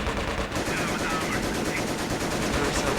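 Machine gun fire from the Company of Heroes Blitzkrieg mod, rapid continuous bursts of battlefield gunfire rattling steadily throughout at moderate loudness, with faint talk underneath.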